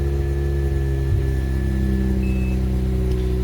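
Steady idle of a cold-started Mazda RX-8 rotary engine fitted with a small trunk-mounted battery and a catalytic delete, a close, even drone with a faint whine on top.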